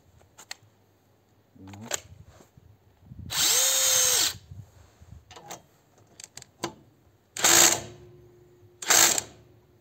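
A Parkside Performance PDSSAP 20-LI B2 cordless impact wrench runs in three loud, close bursts of about a second each, with a steady whine, separated by quieter clicks and handling noises.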